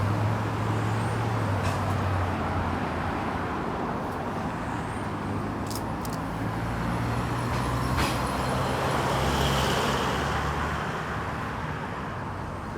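Traffic rumbles steadily at the Fairchild Street bus terminal in Bridgetown, Barbados, with idling buses and cars, passing engines and a few sharp hisses of air brakes, continuous and close.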